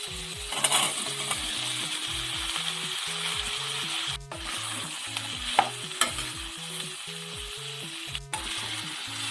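Kadachakka (breadfruit) and onions stir-frying in hot oil, a steady close sizzle broken by repeated scraping strokes of a spoon against the pan and occasional metallic clinks, with no talking.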